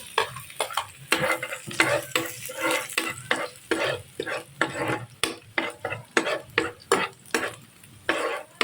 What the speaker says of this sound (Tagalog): Mainit na po ang mantika. Lagay na natin ang bawang.